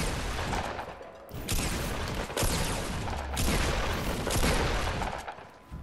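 Rapid bursts of gunfire from the video game Fortnite Battle Royale, loud and continuous with several dense volleys and no clear pauses.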